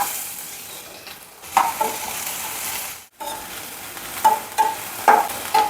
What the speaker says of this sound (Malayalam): ഇതിലേക്ക് ഒരു വലിയ സവാള ഒരു കഷ്ണം ഇഞ്ചി കഴിഞ്ഞ് കുറച്ച് വെളുത്തുള്ളി കഴിഞ്ഞ് ഒരു പച്ചമുളക് കഴിഞ്ഞ് ചേർത്ത് വഴറ്റിയെടുക്കാം